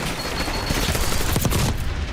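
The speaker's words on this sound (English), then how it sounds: "It's called an explosion." A loud video game explosion, a dense rumbling roar with crackling bursts that stays strong for about two seconds.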